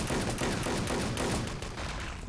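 Rifle fire in the team shooter Enemy Territory on the Malibu map, a continuous clatter of shots mixed with other gunfire, loud and close throughout.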